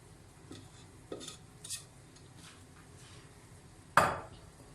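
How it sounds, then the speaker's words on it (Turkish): A spatula scrapes orange-scented poppy seed revani batter out of a bowl in a few short scraping strokes, quiet and close, ending with a sharper knock of utensil against the bowl. "Şöyle güzelce içini temizleyelim ziyan olmasın."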